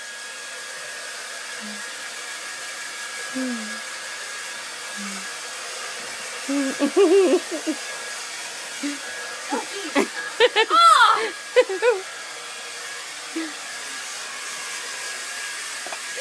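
Steady whirring blow of a hair dryer running throughout, with a voice exclaiming and brief talking sounds over it midway.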